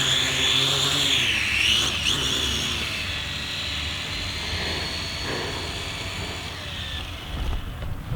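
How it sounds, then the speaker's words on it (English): A Syma X8 Pro GPS camera drone comes down to land on its own, its propellers giving a loud, close, steady whine with a shifting high buzz that gradually eases. "The drone is angry! It's landing on its own."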